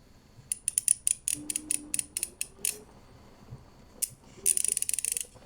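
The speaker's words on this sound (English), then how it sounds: "So let's just do a full ratchet on each one." ASP handcuffs are racheted through a full ratchet, giving quick runs of crisp metallic clicks from the pawl, with a few pauses between bursts and a final fast rattling sequence, close and clear.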